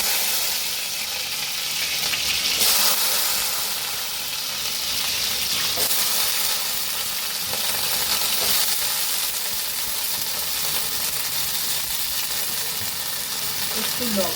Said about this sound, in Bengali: ওই তেলের ভিতরে আলুগুলো ভেজে নেব।